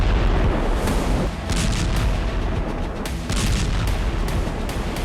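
Russian Iskander missile strikes exploding in Ukraine, a dense roar of heavy blasts and rumbling booms that run on continuously and loud, with repeated sharper impacts layered over a deep low-end wash.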